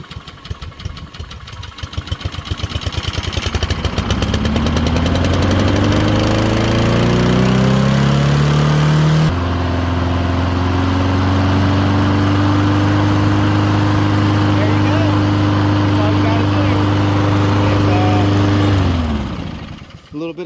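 A lawn mower engine sputters, catches after a shot of starting fluid, then revs up and runs at a loud steady drone close by before cutting off near the end.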